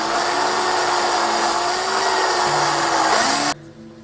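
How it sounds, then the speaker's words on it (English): A loud, steady power drill whines continuously at close range, its pitch shifting slightly under load, then cuts off abruptly near the end. "So we can carry on to drill all the others the same way."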